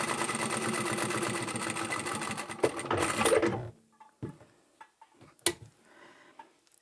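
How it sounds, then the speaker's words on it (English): A sewing machine stitches along the long edge of a small fabric coin pouch made from scraps. It runs as a steady, close, rapid whir for a few seconds, then stops, leaving only faint handling sounds. "I'll just start by sewing down one long edge."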